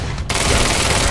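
Gunfire from the video game Quantum Break rattles out as a continuous loud burst of rapid shots that fills the whole moment after a brief lead-in.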